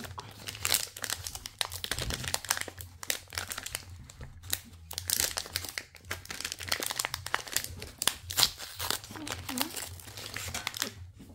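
A gold box of FIFA 365 Adrenalyn XL football cards is torn and ripped open by hand, producing continuous close crinkling and tearing of cardboard and foil wrapping while a person talks throughout.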